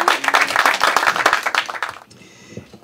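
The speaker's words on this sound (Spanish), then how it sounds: "Y yo pido un aplauso nueva vez para Daniel." A crowd at a political rally applauds with dense, loud clapping for about two seconds, then it dies away into quiet room noise.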